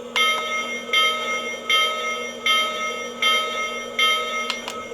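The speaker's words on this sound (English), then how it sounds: "let's see what the bell sounds like" A Lionel toy train set bell rings in a steady repeating pattern, about five bright metallic dings evenly spaced over a low electric hum, close and fairly loud.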